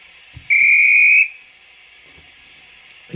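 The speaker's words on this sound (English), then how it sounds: "16 is a guard's whistle." Guard's whistle sound effect from a Bachmann 009 DCC sound-fitted Double Fairlie model locomotive, 'Earl of Merioneth': one steady, shrill whistle blast lasting under a second, loud and clear, with faint mechanical clicks before and after.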